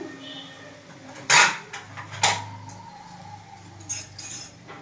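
A spoon stirs spices in a metal cooking pot for a rice dish, making a few sharp clinks and scrapes against the pot at irregular intervals over a quiet kitchen background.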